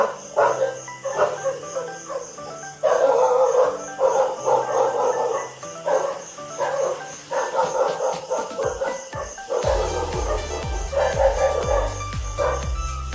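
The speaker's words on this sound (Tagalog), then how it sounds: "Tumatahol yung mga aso guys." Dogs bark repeatedly in quick, yappy bursts, fairly loud and near, with a low rumbling noise joining toward the end.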